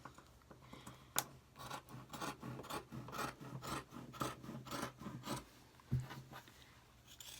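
Scissors cut through cotton fabric for a pillow sham, making a steady run of quiet, rasping snips close by with small irregular pauses.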